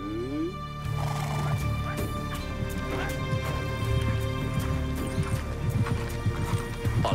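Hooves of a mounted courier's horse clip-clop in a steady, quick rhythm over music, close and fairly loud for the whole stretch, with a brief whinny-like tone at the start.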